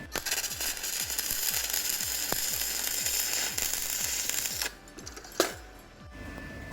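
A 100V welder built for thin metal lays a bead with a steady crackling buzz and a regular pulsing tick that runs for about five seconds, then drops off to a quieter hiss with one sharp pop.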